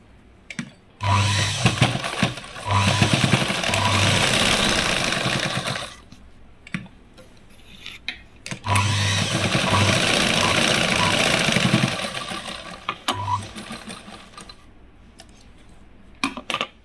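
Sewing machine stitching tucks on a katori blouse in two long, steady runs of rapid mechanical whirring, close and loud, with quiet pauses and short bursts between them.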